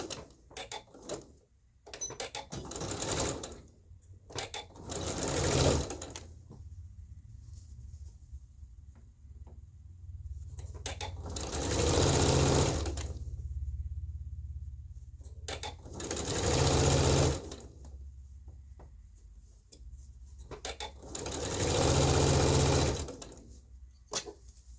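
A sewing machine stitches a dress seam over a pin in several bursts of rapid whirring, each a few seconds long, separated by quiet pauses and faint handling noise. The machine is close and there is no talk.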